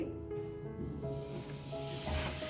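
Urad dal batter sizzles on a hot oiled tava, a steady close crackle with some soft squishy spreading sounds and no talking.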